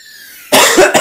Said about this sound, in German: Husten und Schnupfen heute on point.